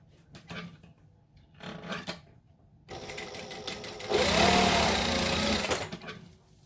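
A sewing machine stitches down the sides of a fabric crossbody bag, starting with short bursts and then running in one loud, steady whir of several seconds at close range.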